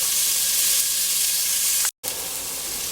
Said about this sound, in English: And this is going to cook until the onion is translucent.